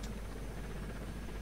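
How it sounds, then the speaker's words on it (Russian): A helicopter arrives in the Delta Force: Land Warrior video game, its rotor thrumming as a steady low drone that stays faint and even throughout. "Так, прилетела вертушка"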